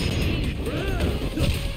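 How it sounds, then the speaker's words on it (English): Heavy punching impacts in the brawler video game Yakuza Kiwami, dense crunching hits and clattering mechanical crashes over busy game sound effects and music. "Just gonna keep smashing him in the face instead."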